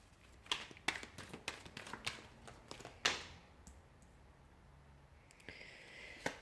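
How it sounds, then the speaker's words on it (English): Rapid crisp clicks and flicks of tarot cards being shuffled, a burst of snaps then a pause and a few more soft riffles. "we'll go ahead and give the cards a shuffle"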